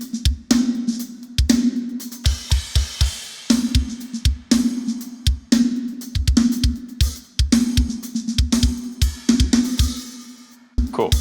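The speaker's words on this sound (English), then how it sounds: "I'm just going to loop these verse drums for a moment so you can hear the overall image of the kit." Metalcore drum kit in a looped verse pattern, with punchy close-miked kicks, sharp snare hits, and crashes, hi-hats and china cymbals washing over a steady low hum, played alone without vocals.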